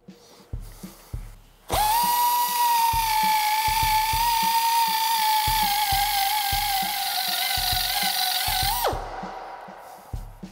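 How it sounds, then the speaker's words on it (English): Pneumatic glue residue remover cleaning adhesive off a wheel plate during wheel balancing, a loud steady high-pitched whine lasting about seven seconds, with clicks and knocks before and after. "In this case, we'll use a pneumatic glue residue remover."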